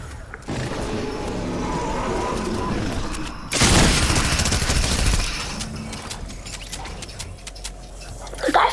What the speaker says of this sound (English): The guy has a whole minigun.